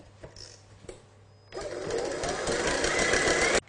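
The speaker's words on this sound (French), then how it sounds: "ajouter le sucre restant et fouetter rapidement pour la rendre plus dense" Meringue being whisked rapidly after the remaining sugar goes in, for a lemon meringue tart: a couple of soft knocks, then a steady, loud motorized whir for about two seconds that cuts off abruptly.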